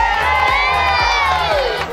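A school class of boys and girls cheers and shouts together in a loud, sustained burst, with high excited voices and steady clapping filling the room.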